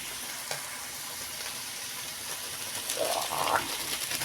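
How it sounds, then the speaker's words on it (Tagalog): Chicken sautéing in a pan for chicken pastil, a continuous close sizzle and crackle that grows louder and busier near the end, with light clinks of stirring. "Igisa muna natin yan."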